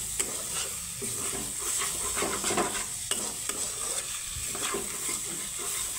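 Scrambled egg frying with spices in a pan, for a bitter-gourd dish: a steady close sizzle with scraping stir strokes against the pan throughout, no voices.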